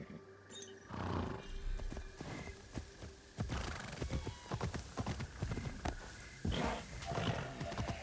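A horse ridden in the Assassin's Creed Shadows video game, with rhythmic hoof clip-clops and a whinny over a low ambient game soundtrack.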